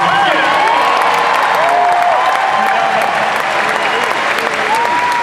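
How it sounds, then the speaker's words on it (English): Large convention panel audience bursts into loud, sustained applause with scattered cheers and whoops, a dense wall of clapping filling the hall, with some voices rising through it. "can we just give a big cheer for Bob for Stranger Things?"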